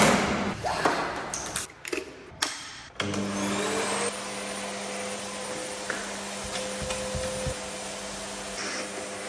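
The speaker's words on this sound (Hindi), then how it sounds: "तो अभी पूरी वैक्यूम क्लीनर से इसकी सफाई करी है" A household vacuum cleaner cleans the tracks of a window: a few knocks and bumps, then the motor whines up into a loud, steady drone that runs on close by.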